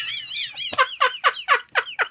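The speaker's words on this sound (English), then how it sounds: "What's with this fucking Tweety bird noise?" A cartoonish bird-like call in an AI-generated Spider-Man video: a warbling trill followed by about six loud, evenly spaced chirping squawks in quick rhythm, close and clear with no talk.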